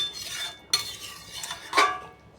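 A metal spoon scrapes and clinks against a pan while shahi garam masala is stirred into an egg curry made with mutton and chicken fat, producing a few close, brief clanks between softer stirring swishes.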